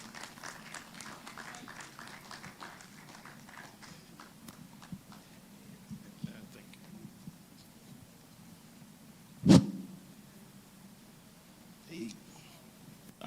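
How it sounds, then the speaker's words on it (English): A conference audience at an AI engineering event gives scattered, light clapping to welcome a keynote speaker, the claps tapping irregularly at a distance while people talk over them, followed by one sharp bump. "with a clapping ovation, let's welcome Odumakinde Ayomide"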